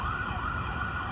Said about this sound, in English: Y'all please excuse the sirens